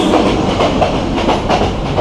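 Suborno Express running from Chittagong to Dhaka, heard from inside the carriage as a loud, steady rumble with rhythmic clickety-clack of the wheels on the rails.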